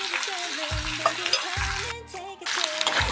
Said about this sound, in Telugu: పోసుకున్నాక ఒక 5 మినిట్స్ వీటిని మళ్ళీ మగ్గించుకోవాలి నూనెలో.